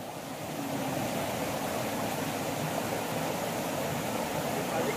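A river flows in the open, making a continuous broadband rush of water that stays steady and fairly loud throughout, with no voices.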